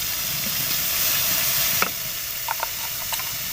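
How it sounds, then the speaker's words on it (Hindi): Boiled egg tikka masala roasting in a pan, a steady close sizzle and hiss of frying with a few light spatula knocks near the end, no talking. "तकरीबन 2 मिनट के लिए हम इसकी भुनाई करते हैं।"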